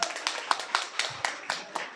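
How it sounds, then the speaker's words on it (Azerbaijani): Applause rings out for Zemfira Ağayeva at a women's award ceremony, a small group clapping in sharp, evenly spaced claps close by, with faint voices underneath. "Zemfira xanım Ağayeviyə bir alqış istəyirəm"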